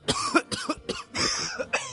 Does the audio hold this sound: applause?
no